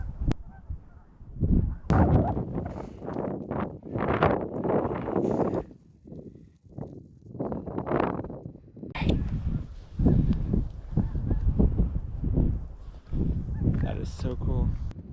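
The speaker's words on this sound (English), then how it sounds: "Bunch of snow geese right here." Flock of snow geese honking in open sand dune country, a dense chorus of overlapping calls rising and falling in waves, with wind and a nearby voice talking over it.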